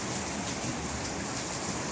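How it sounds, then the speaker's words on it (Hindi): Steady rain falls outside in a dense, even hiss that holds unbroken throughout at moderate loudness, with no voices or other sounds over it. "थोड़ा सा आपको बारिश की आवाज़ आ रही होगी भाई"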